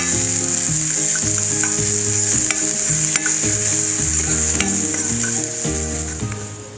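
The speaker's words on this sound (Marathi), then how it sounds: "तेल तापलं की आपण त्याच्यामध्ये कांदा ॲड करून घेऊया. कांदा चांगला फ्राय करून घेऊया." Chopped onion sizzles steadily in hot oil in a pan, a dense, continuous frying hiss with occasional clinks from stirring. No one speaks.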